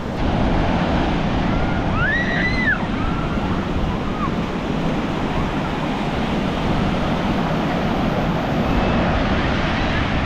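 Steady roar of surf at a beach in Vizag, broad and continuous, with a faint siren-like tone rising briefly in the background.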